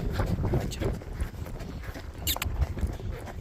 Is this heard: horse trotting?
yes